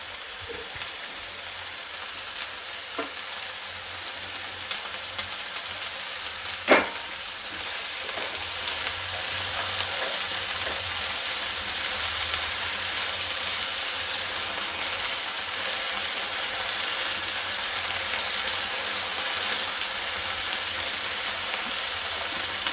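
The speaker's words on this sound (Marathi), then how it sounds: "ह्याला पण आपल्याला थोडंसं परतून घेऊया छानपैकी" Vegetables for veg kolhapuri sauté in a pan with a steady soft sizzle throughout, broken by a few faint clinks of stirring, close and even, with no voices.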